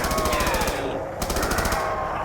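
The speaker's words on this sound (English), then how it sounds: "As you see, this is the Tommy gun" Tommy gun in Black Ops 2 Zombies firing rapid automatic bursts, a dense rattling stream of shots with a brief pause midway, loud and close.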